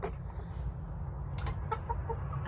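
Backyard chickens, a flock with newly added hens, cluck softly and sporadically after being let out of the coop in the morning, heard at a modest distance over a low background rumble.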